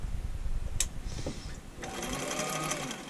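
Husqvarna Viking 6460 sewing machine stitching fast in reduction gear, a steady close mechanical whir and rapid needle chatter running through most of the clip with a brief pause near the start.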